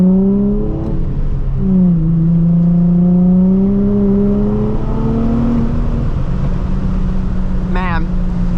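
A Nissan 350Z engine revving and accelerating hard on a downhill canyon road, a loud close rising and falling whine with gear changes, steady road rumble throughout and a voice speaking over it.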